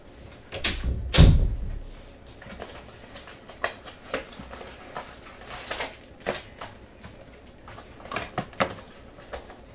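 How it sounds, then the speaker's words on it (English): A door swings shut with a solid thud early on, followed by scattered light knocks and shuffling sounds in a quiet room. "you have to close the door now."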